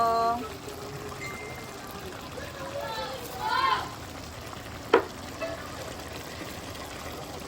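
Humba with ground pepper being stirred in a sizzling pan, a soft continuous fry under a voice talking, with a couple of scraping and knocking sounds from the utensil.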